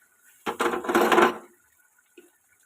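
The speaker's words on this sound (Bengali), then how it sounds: "এবার ঢাকাটা তুলে দেখে নেব মাছটা হয়েছে কিনা।" A lid lifted off a cooking pan of fish for a mustard-poppy seed bata fish dish, a single short metallic clatter and scrape, close and moderately loud, followed by a faint tap.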